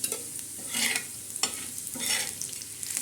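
Masala and onion roast on a griddle with a quiet, continuous sizzle, broken by a few rhythmic scraping strokes of stirring.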